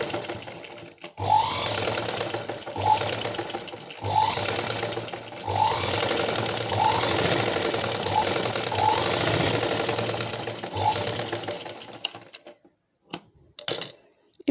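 A sewing machine stitches a dart on a blouse: a loud, steady mechanical whir broken by short regular pauses, then stopping near the end with a few brief clicks.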